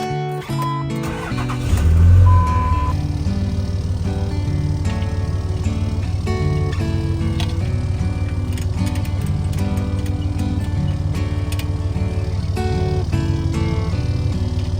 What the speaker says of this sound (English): Start the truck.